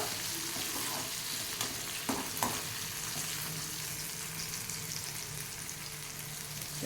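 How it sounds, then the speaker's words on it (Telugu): Onion and garlic pieces frying steadily in hot oil with a continuous sizzle, broken by a couple of brief stirring scrapes, close and alone with no talking. "కొంచెం ఈ ఉల్లిపాయ ముక్కలు ఎర్రగా వచ్చేంత వరకు వేగనిద్దామండి"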